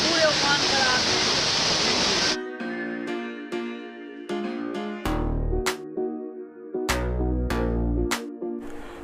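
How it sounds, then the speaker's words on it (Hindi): A swollen river in flood after overnight rain near Agastyamuni, Rudraprayag, Uttarakhand, roars as a loud, continuous rushing of water for about two seconds, then cuts abruptly to sparse musical notes. "जिसके कारण आज ये नदी अपने पूरे उफान पर आती है।"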